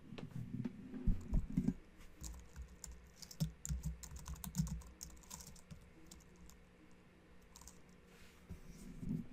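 Typing on a computer keyboard while entering a web address, with quick irregular key clicks in bursts, fairly close and moderately quiet, no voices.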